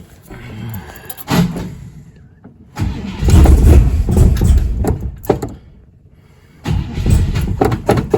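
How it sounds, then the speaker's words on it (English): Engine of a 1957 car with a carburettor upgrade, cranking and revving in loud bursts with a rough rattle of the valve covers knocking against the body, then dropping back between runs. "Could you hear that rattle? That is the valve covers hitting the body."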